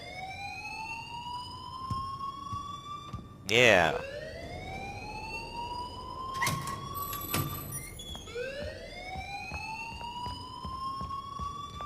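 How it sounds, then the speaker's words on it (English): A school alarm in the video game Life is Strange rings steadily as a loud two-tone electronic wail rising and falling in repeated sweeps across most of the span, with brief bursts of other noise and a short spoken word over it. "please turn off that alarm since that's your job"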